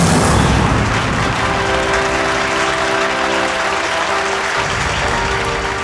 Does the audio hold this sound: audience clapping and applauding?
yes